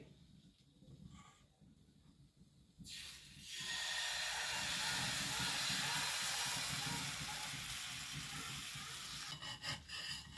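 Patisapta batter poured onto an oiled tawa breaks into a loud, steady hiss of sizzling after a quiet start, holding close and bright to the end with faint clatter.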